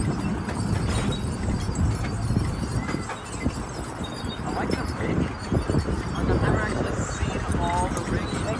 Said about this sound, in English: where else can you ride a horse inside a theme park?